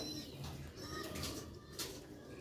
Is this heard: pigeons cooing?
yes